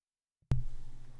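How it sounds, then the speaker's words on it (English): A single sharp, close cough bursts out after a short silence, followed by a rough, breathy tail that trails off. "I need to cough again because I'm dying."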